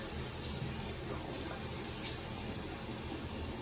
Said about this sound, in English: so then I rinse this off.